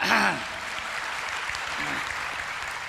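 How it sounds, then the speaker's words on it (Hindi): Audience clapping at a Hindi comedy poetry gathering (kavi sammelan), a steady spread of applause from a large crowd with a voice heard briefly at the start and again partway through. "एक बार जरा ढंग से ताली बजाओ पीछे तक"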